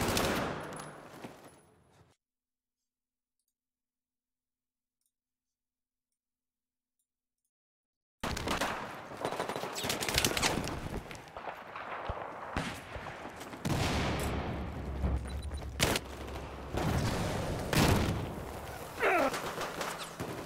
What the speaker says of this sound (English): Great mixture of weapons in this round. From snipers, LMGs, assault rifles.